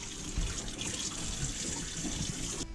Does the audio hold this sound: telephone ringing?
no